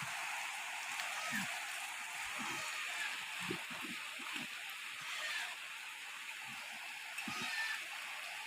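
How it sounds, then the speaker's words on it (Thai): Heavy rain falling steadily on a farm where goats are eating corn, a constant hiss of rainfall with occasional low thumps and a voice talking faintly underneath. "ฝนตก"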